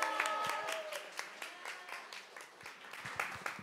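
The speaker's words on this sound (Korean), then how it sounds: "다시 한번 큰 박수 부탁드립니다" Audience applause at a Korean library-related event, a steady run of many hands clapping at moderate distance, fairly faint and fading slightly, with no talk over it.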